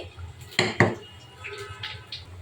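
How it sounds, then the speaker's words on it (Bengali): A metal lid lifted off a pot of cooked masoor dal khichuri, giving two quick clanking knocks followed by faint rattles and a soft bubbling background, close and without talk. "ঢাকনাটা তুলে নিব"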